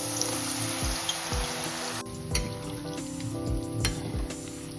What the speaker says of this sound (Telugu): ఇప్పుడు ఇదే ఆయిల్లో 1 కప్పు మీల్ మేకర్ ని వేసేసి వేయించేసుకోవాలి.